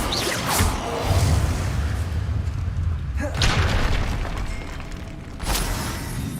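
A spell cast in the Hogwarts Legacy video game sounds as repeated whooshing bursts with deep booming swells, fairly loud and dense, with a sharp rush near the start, middle and end.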